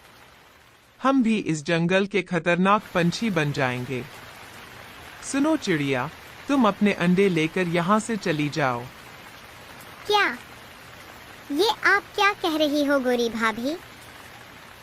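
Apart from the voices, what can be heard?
heavy rain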